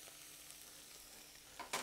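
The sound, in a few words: butter, onion and garlic frying in a pan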